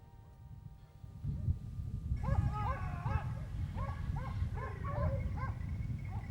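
Hunting dogs with their handler tracking wild boar stragglers, a pack yelping and whimpering in short excited bursts over a steady low rumble, moderately close, with no talk heard.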